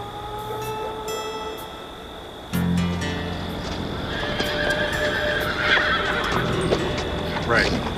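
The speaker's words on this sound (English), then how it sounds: "those are wild horses" Wild horses neigh and whinny in the open, several calls rising and falling over steady clip-clopping hooves, with voices talking quietly beneath.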